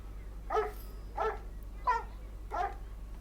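A dog barks four times at an even, unhurried pace in the World of Tanks Christmas event, each bark clear and moderately close over a steady low hum, with no talk.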